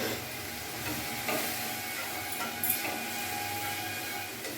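Masala with a little added water simmering and sizzling in a pan for a curry of pointed gourd in yogurt, a soft steady hiss with faint stirring scrapes close by.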